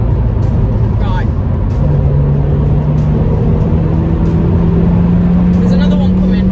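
A car passes fast, its engine tone rising steadily as it approaches, heard from inside a moving car over a constant road and engine roar, with voices in the background.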